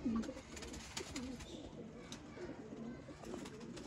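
Teddy Sialkoti golden breeder pigeons coo softly nearby, several short rolling coos repeating through a few seconds against faint background noise.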